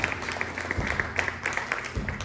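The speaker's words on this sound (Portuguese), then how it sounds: "Você pode aplaudir o Senhor?" Church congregation applauding during a service, with a fairly quiet, rhythmic patter of clapping hands and some faint voices mixed in.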